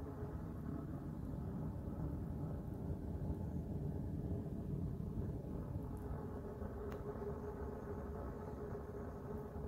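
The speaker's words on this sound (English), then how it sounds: "jet engine sound. That means the wood is producing gas that's coming through the little orifices" A steady low roar, like a distant jet engine, of wood gas rushing through the orifices of a charcoal retort burn box, rumbling continuously without pause, deep and breathy with a faint hiss on top.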